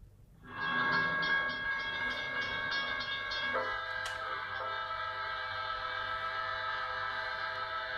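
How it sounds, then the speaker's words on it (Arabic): A train horn blares loudly and steadily, sounding a long sustained chord that holds for several seconds with faint rumble beneath. "إذا اسمه قطار وهذا صوته"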